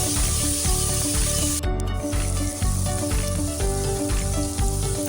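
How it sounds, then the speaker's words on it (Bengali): Vegetables frying together in a pan for fried rice give a loud, steady sizzle that crackles without pause, with no voices. "আমি সব সবজিগুলোর মধ্যে দিয়ে ভেজে নিচ্ছি।"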